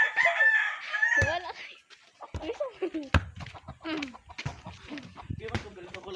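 A rooster crows loudly up close at the start, followed by scattered clucking and rustling from chickens in a coop while a person talks intermittently.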